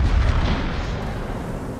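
Naval artillery fire from a warship in World of Warships, a loud, sustained low rumbling boom that rolls on for nearly two seconds with no break.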